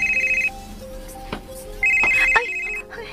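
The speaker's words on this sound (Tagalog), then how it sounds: "Ang akong cellphone." A cellphone ringtone plays in a Cebuano radio drama scene, a repeating electronic melody sounding in loud bursts, breaking off briefly and then resuming, with no speech over it.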